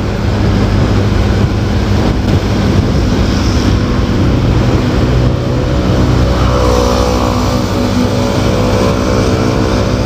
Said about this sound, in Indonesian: Motor Honda 4 tak trail.